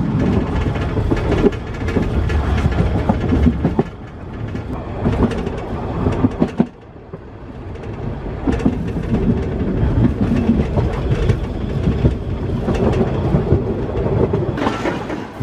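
A Weißeritztalbahn narrow-gauge train rumbles steadily along its rails into Dippoldiswalde station, loud and close, with rhythmic clatter that briefly drops away midway before the rolling noise builds again.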